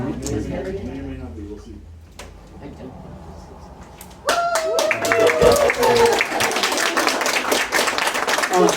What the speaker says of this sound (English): Can we get like just the loudest applause for them?